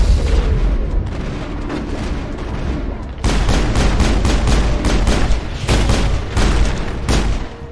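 Rapid gunfire from a Mass Effect battle, a dense run of loud sharp shots and booms that thickens into heavy bursts in the second half, with no talk over it.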